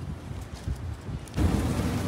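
Evening rain beginning to fall outdoors, a soft hiss of drops that thickens into a steadier, louder wash partway through, with some wind buffeting.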